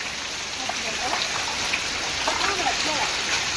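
Rain falling in a village, a soft steady patter and hiss close by, with a voice speaking faintly under it.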